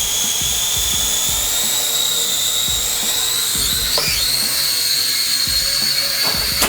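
Propel Cloud Rider toy drone flying indoors, a steady high-pitched rotor whine that holds throughout and shifts pitch briefly midway, with faint knocks and handling noises underneath.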